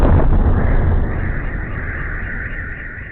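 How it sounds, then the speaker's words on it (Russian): A drone attack strikes the Selmash district, home to two military airfields: a loud, sustained low rumble of explosion that booms at the start and then slowly fades into a long, steady roar lasting several seconds, with no voices. "взрывы прозвучали в районе Сельмаш, где расположены 2 военных аэродрома"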